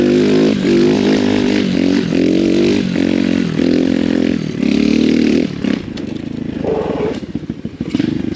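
An Amazon X Pro Storm 150 DLX dual sport motorcycle runs near full throttle going slightly uphill, its loud buzzy engine surging in repeated pulses as gears change, with wind and rattling underneath and an easing-off toward the end.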